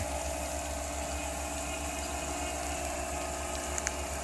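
Water spraying steadily from a farm irrigation sprinkler over a potato field in Saudi Arabia, a constant hissing wash with a low pump-like hum beneath, unbroken for the whole stretch with no talk.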